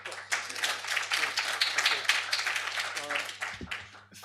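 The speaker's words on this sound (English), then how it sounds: "Give him a round of applause." Audience applause after a talk at a conference parallel session on spatial inequalities, dense broadband clapping sustained for about four seconds with a steady low hum beneath and a brief voice near the end.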